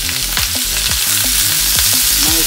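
Beetroot, cauliflower, beans and asparagus sauté loudly in a hot pan, a dense steady sizzle with repeated scraping stirs of a utensil and no voices.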